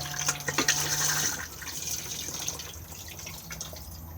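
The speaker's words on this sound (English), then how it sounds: "to flush, press the blue button just here" A caravan cassette toilet in a Swift Fairway 635 flushes with a brief rush of water, then trickles and drips close by in a small bathroom.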